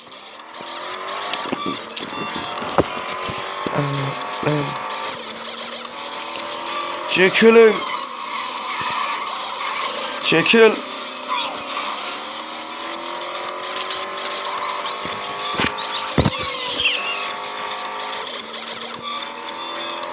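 Cars driving in the video game Gangster Vegas, with engine drone, passing vehicles and brief tire squeals over a continuous mix, while people talk and shout throughout.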